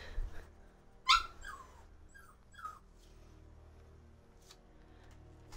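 A puppy gives a few faint whimpers and yips, with one louder squeal near the start and soft scattered cries afterward in a quiet room.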